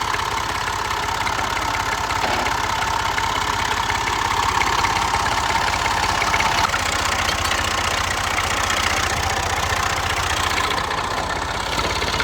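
A tractor engine idles steadily after a restart on a farm, a close, loud, even chugging rumble that runs throughout without talk.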